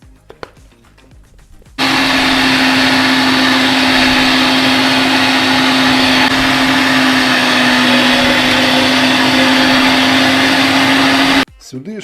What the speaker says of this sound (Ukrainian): І тепер оцю всю тему відправляємо до м'ясорубки